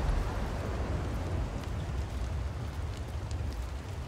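Rain in the video game Below, a steady, dense hiss of falling water that stays even throughout, with no voices.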